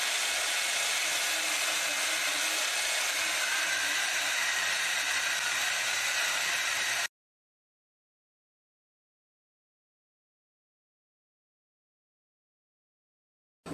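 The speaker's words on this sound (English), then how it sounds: "I've just been using my little Harbor Freight bandsaw that I put on a stand, and it works really good for me." Harbor Freight bandsaw mounted on a stand, cutting a metal trailer hitch part with a steady, loud whirring hiss for about seven seconds before stopping abruptly into silence.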